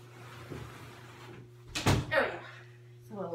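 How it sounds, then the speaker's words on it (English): A door is shut in a classroom setting, a single close thud landing partway through with a faint hum underneath and brief murmurs of talk before and after. "let me shut my door"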